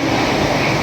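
The Rajdhani Express, running from Bengaluru to Hazrat Nizamuddin, rushes past very close in a loud, steady, broadband roar of wheels and carriages filling the whole moment.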